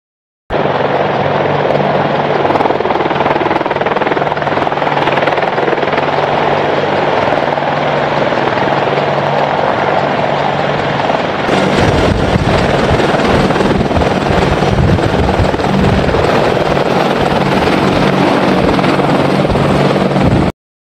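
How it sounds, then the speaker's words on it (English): AH-64 Apache attack helicopter in flight, a loud continuous rotor thump and turbine whine that holds steady throughout, growing harsher and fuller partway through. "This attack helicopter is controlled by a two-man crew."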